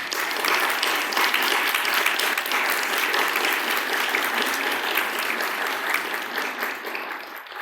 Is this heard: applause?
yes